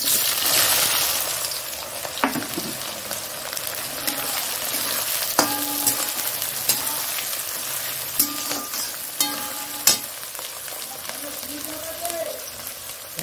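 Onions fry in a pan with a steady sizzle, broken by clinks and knocks of a utensil against the pan, heard up close.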